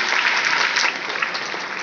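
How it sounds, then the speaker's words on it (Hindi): Loud, dense audience applause at a corporate special event, steady clapping from a hall crowd for a couple of seconds. "सारे पार्टनर सेंटर्स के लिए जोरदार ताली बजानी चाहिए"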